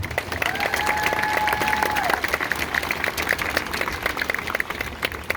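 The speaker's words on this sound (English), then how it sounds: "Can we give them a round of applause as well?" A crowd claps steadily throughout an eighth grade promotion ceremony, a dense wash of applause that holds at an even level for the whole stretch, with a faint sustained tone briefly audible early on.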